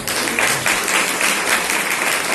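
A church congregation breaks into loud, dense applause that fills the room evenly from start to finish with no voices on top.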